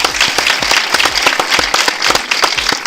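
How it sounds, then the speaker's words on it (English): Loud, close applause from an audience at a televised quiz show in Nigeria, with dense overlapping hand claps in a fast, steady rhythm filling the whole stretch. "I needed that applause to continue"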